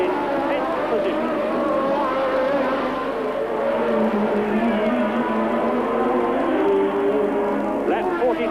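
A Formula One race car at the 1981 Austrian Grand Prix roars across the finish line, its high-revving engine note steady and loud throughout, climbing sharply in pitch near the end.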